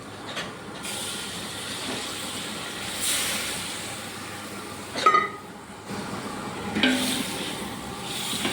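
Water splashed into a hot pan while cooking North Karnataka-style avalakki hisses and steams, with several short bursts of sizzle rising over a lower, steady background hiss.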